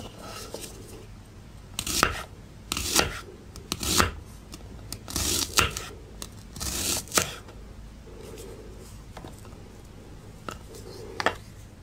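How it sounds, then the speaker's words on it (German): A Spyderco Paramilitary 2 folding knife slices through an onion in a series of crisp, near cuts and crunches, roughly a dozen irregular strokes with quieter pauses between, no talk. "Beim Schneiden einer Zwiebel"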